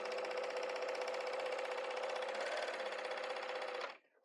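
Sewing machine with a built-in knife trimming the edge of fabric runs in one steady, close whir for about four seconds, then stops abruptly, with no talk over it.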